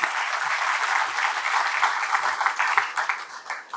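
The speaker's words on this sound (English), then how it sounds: "And another round of applause for him" A hall audience at an alumni awards ceremony gives a sustained round of applause, dense and even, with a few louder individual claps standing out as it tapers slightly.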